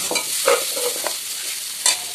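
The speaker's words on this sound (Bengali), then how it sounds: "আর উচ্চে ভাজা বসিয়েছি" Bitter gourd frying in a pan on a brick wood-fired stove, a close, loud sizzle with a few sharp scrapes and taps of a spatula, no talking.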